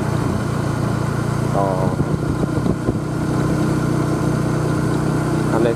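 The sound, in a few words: motorcycle engine while riding at night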